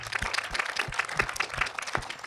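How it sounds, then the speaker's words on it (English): Audience applause for a panel at an artificial intelligence discussion event, a modest crowd clapping with distinct individual hand claps audible in a loose, uneven rhythm at moderate volume. "Please give them a big applause."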